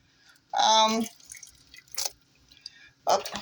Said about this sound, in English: we want to fill these jars up to an inch headspace